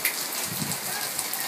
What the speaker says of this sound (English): Okay, so it's the middle of a downpour, and they happen.